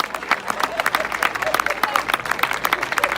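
Congregation applauding at an evangelistic campaign meeting, dense clapping with overlapping crowd murmur and voices throughout, moderately loud and close.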